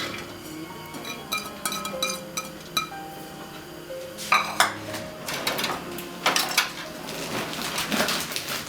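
Radish cake ingredients tossed in a metal pan with sesame oil and sausages: a steady run of clinks and scrapes of utensil against pan, with sharp metallic hits clustering in the middle and last seconds.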